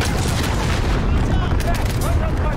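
Call of Duty: Modern Warfare 2019 battle noise: constant dense gunfire and booming explosions, loud and close, filling the whole moment with voices mixed in.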